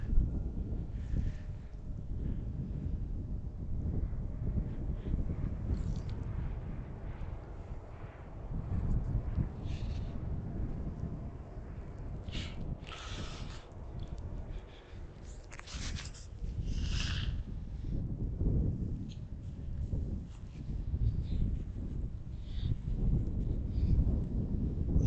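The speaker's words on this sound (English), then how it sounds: "Was not expecting this much wind today." Strong gusting wind buffets the microphone at an outdoor airport viewing spot by Fort Mifflin near Philadelphia International, a constant low roaring rumble that swells and eases over about 25 seconds, with faint higher clatter and no talk.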